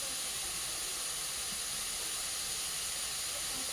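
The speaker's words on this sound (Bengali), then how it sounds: "দেখুন কত জোরে উনুন জ্বলছে এখন।" A clay stove fire burns strongly outdoors, giving a loud, constant roaring hiss with no pauses, steady and close throughout.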